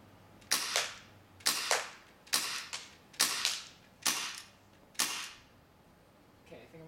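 An airsoft gun fired outdoors, six sharp cracking shots spaced roughly a second apart, each with a short fading tail and mechanical clacks between them.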